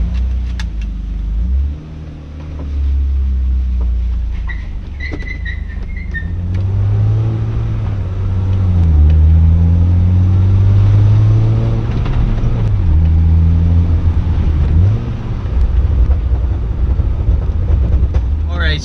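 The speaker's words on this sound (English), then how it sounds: "Okay, so I'm gonna back the car up and go for a quick drive to see how it feels." An inexpensive BMW drift car backing up and pulling away after a short shifter install, its engine droning low and rising through revs over nearly twenty seconds, close and steady.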